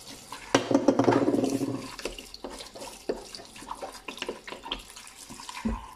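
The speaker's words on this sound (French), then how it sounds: "Voilà, là, je rince." Running tap water rinsing during household cleaning, a loud gushing splash early that tapers into intermittent trickles and clatter, with no talking.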